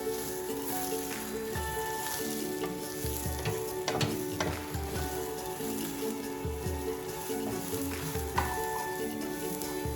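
Yellow lentils sizzle and crackle steadily as they roast in a hot pan while a spoon scrapes and stirs at intervals, close and continuous.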